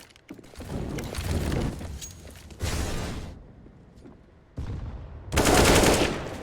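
Gunfire in CS:GO comes in several loud rifle bursts and sprays separated by short gaps, the last burst the strongest, with faint footsteps between.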